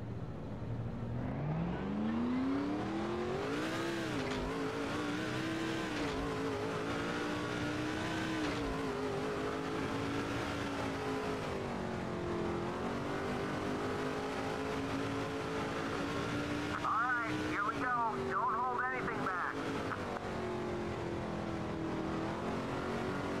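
Race car engine in the NASCAR 06 video game, the Bob's Wire Fencing 103 car on a tight, slow track, a loud steady roar that rises and falls with shifting pitch through corners for the whole stretch, with no talk over it.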